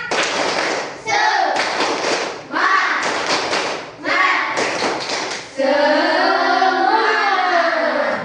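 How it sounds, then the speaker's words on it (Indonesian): A class of children does a rhythmic spirit clap in a school lesson, several loud bursts of patterned group clapping separated by brief pauses, ending with children's voices chanting together. "mari kita tepuk semangat dulu"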